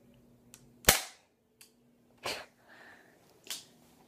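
An airsoft gun fires test shots into cardboard, giving several sharp snapping pops spaced irregularly, the first loudest, close and otherwise quiet with no talking.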